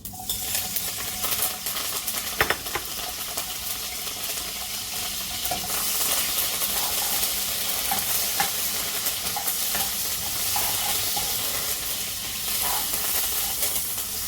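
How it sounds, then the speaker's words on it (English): Seasonings sauté in a pan for Jamaican ackee and saltfish, a steady close sizzle with occasional light clinks of a utensil stirring, continuous and moderately quiet. "Just give them a little stir so they can saute."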